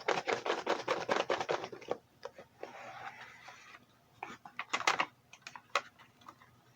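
Close, crisp card handling: a rapid burst of riffling clicks, a soft papery rub, then scattered taps and flicks of cards being squared and shuffled.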